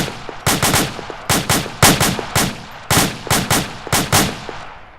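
Infantry firing on command produce volleys of rifle gunfire, about a dozen sharp, loud shots that come in quick pairs and short bursts, close by and without talk.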